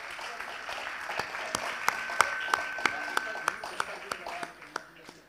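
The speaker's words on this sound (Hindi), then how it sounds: "इन बाल कलाकारों का अभिवादन कीजिए तालियों के साथ।" An audience at a Kurukshetra Ramleela applauds the child performers with a steady wash of clapping and some sharper individual claps standing out, sustained for several seconds.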